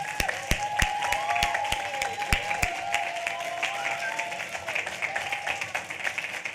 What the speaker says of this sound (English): So another round of applause for him